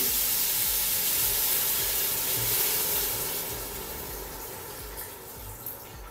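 Water poured into a hot pot of pork and leek-celery, a loud continuous hissing pour with sizzle and steam that gradually softens over several seconds, no talking.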